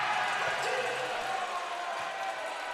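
A loud crowd fills the gym at a women's college basketball game between Langara and Camosun, a constant roar with scattered shouts, and sneaker or ball thuds faint underneath.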